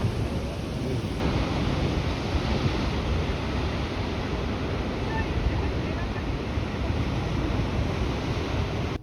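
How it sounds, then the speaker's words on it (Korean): Large ocean waves breaking at London Bridge on the Great Ocean Road in Australia, a steady, loud roar of surf with wind buffeting the microphone throughout. "파도 진짜 크다"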